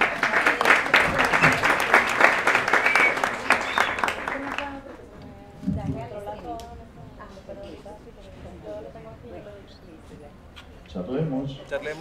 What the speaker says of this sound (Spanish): un aplauso para Charlemos.